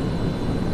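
A helicopter in the military video game Project Reality gives a brief, steady engine drone and rotor rumble, heard alone without talk.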